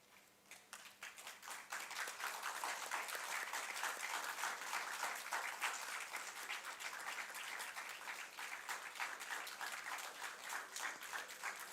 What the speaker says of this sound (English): Let us all stand for them and give a round of applause.